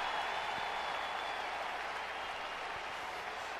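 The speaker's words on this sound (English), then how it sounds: "Lukewarm response from the crowd." Steady, unenthusiastic crowd applause at an O.C.W. wrestling show in North Charleston, South Carolina, a flat wash of scattered clapping that holds evenly throughout without swells or cheers.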